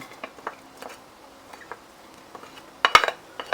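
Garlic stir-fried in a pan over low heat for Thai salt-and-chili shrimp, giving light scattered clinks and scrapes of a utensil against the pan, with a louder clatter near the end.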